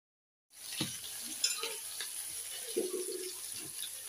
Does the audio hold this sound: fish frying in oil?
yes